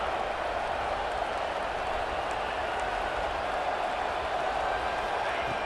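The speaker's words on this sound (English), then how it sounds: "this home crowd is fired up and ready to make a difference today" A home crowd at a Patriots vs Jets football game roars in a steady, broad wash of cheering and noise, distant and continuous throughout.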